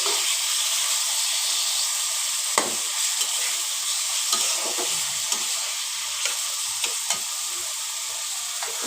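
Tomato and thoikor fry and get stirred in a pan for a sour small-fish curry: a steady close hiss of frying with repeated scraping, clicking stirs throughout, no talk.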